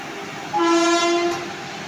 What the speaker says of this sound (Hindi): वंदे भारत एक्सप्रेस